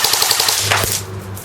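An airsoft CYMA Galil rifle fires a quick burst of about five close, sharp shots over a chronograph, followed by a brief clack and a fading mechanical hum.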